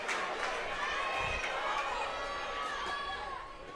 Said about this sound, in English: Danville crowd getting loud.